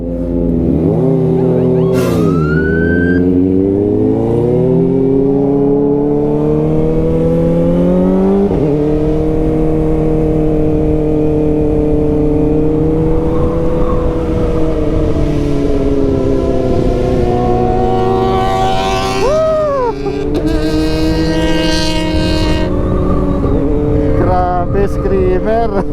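A Kawasaki Ninja ZX-25R motorcycle engine screams through sustained high revs, climbing and falling in long sweeps with brief blips, loud and close for the whole stretch.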